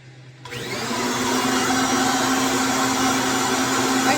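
A Kirby vacuum cleaner with its hose attached switches on after a brief quiet moment and settles into a loud, steady motor whine with a strong airy rush, running continuously and close by.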